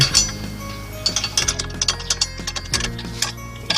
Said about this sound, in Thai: เราใช้ปัจจัยเบอร์14นะครับ ในการขันเข้าไป